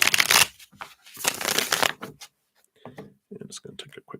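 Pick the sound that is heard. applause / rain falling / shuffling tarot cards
shuffling tarot cards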